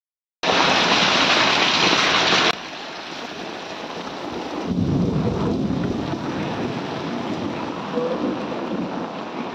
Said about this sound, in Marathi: जोराचा पाऊस येतोय.